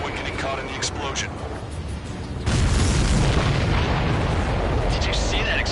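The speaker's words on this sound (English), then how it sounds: "Did you see that explosion?" In Ace Combat 7, a supply ship hit by a missile explodes with a sudden loud blast that rolls into a long, heavy rumble, following a stretch of voice chatter.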